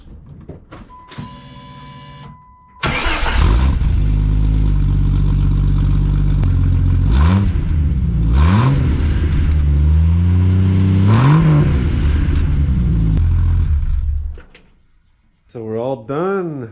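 A Jeep ZJ, freshly tuned up with new spark plugs, wires, cap, rotor, alternator and belt, cranks briefly, fires and idles, then revs up loudly several times before shutting off, a voice speaking at the end.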